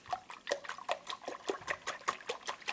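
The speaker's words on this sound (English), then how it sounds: "Then we're going to pour in a cup of heavy cream." A cup of heavy cream pours into a bowl of eight whisked jumbo eggs for a bananas foster bread pudding custard, giving a faint, rhythmic glugging trickle.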